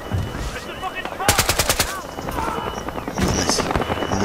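Bursts of rapid automatic gunfire from a gold weapon in the Battlefield Hardline video game, a sharp clattering string of shots with a second burst shortly after, while a player talks between them.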